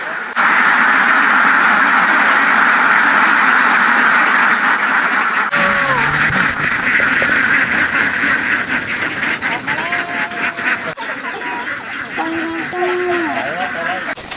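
Farm ducks quack repeatedly at a farm near Sukhothai airport, nasal calls rising over a steady background, with voices talking partway through.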